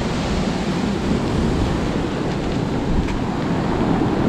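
Strong ocean surf at a beach resort in Dinadiawan, Dipaculao, Aurora, a steady loud wash of breaking waves with constant roar and no clear speech.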